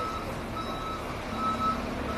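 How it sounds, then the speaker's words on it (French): A garbage truck reversing sounds its backup alarm, a steady series of high electronic beeps over loud, continuous engine and street rumble. "Même les camions, ils marchent en arrière. C'est un camion de poubelle, le pauvre."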